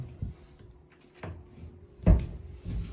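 A wardrobe door in a renovated apartment bedroom is opened and shut, giving a few soft knocks and one firmer clunk against quiet room noise.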